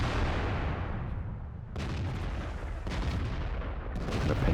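Artillery fire in the World of Tanks video game, heard as a continuous low rumble of heavy gunfire and booming impacts with a few sharper blasts.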